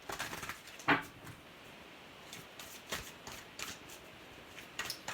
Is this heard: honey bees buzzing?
no